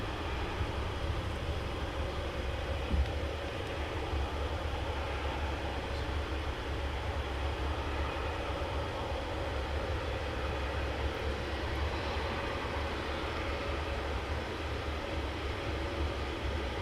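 An aircraft at Luton Airport rolls along the runway in the early morning, a steady distant engine rumble and roar holding at an even level throughout with no voices.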